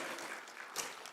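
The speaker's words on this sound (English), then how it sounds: "Give applause to the 3 speakers." Brief burst of audience applause at an international social work and social sciences conference, steady dense clapping throughout with a slight swell near the end.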